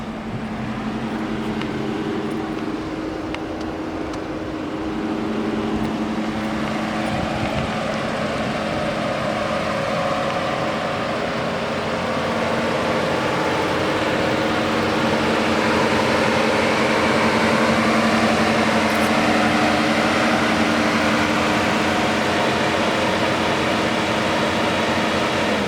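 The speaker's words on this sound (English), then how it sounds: "Super strong fan. Of course, it's dual fan on this one." Dual radiator cooling fans roar steadily on an idling 2020 Dodge Charger Pursuit police car with a 5.7 HEMI, a loud, constant broadband whoosh with a low engine hum beneath it, rising slightly over time.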